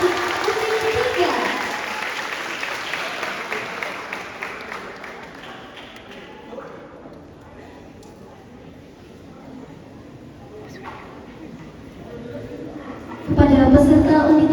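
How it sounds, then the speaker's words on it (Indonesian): An audience at a musical theater pageant gives sustained, loud applause for the third princess contestant. The clapping fades gradually and then swells again near the end. "Berikan tepuk tangan yang meriah sekali lagi untuk putri ketiga."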